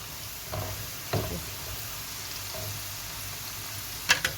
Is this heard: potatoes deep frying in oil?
yes